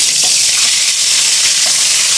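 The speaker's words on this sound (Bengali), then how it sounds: "এই আলু ভাজা ছেড়ে দিলাম, গোল গোল আলু ভাজা" Round potato slices frying in hot oil, a loud, close, continuous bubbling sizzle that stays even throughout with no voices.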